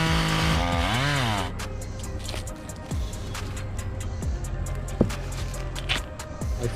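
A chainsaw revs high and then drops to a rough idle, followed by scattered knocks and thumps of cut wood slices as the saw keeps chugging in the background.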